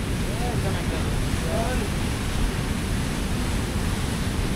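Steady broadband roar of the Sukhaldari waterfall in Garhwa, Jharkhand, a constant rushing wash of falling water with no breaks, fairly loud and continuous throughout.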